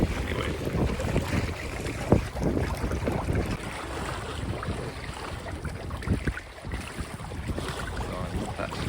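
A sailboat moves along in the wind, with continuous gusty wind buffeting and rushing water around the hull, fairly loud and rough, with a sharp knock around two seconds in.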